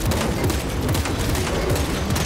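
Turrets fire in the Warhammer 40K Space Marine 2 video game, a dense, continuous barrage of rapid gunfire with low booms mixed through, loud and unbroken throughout.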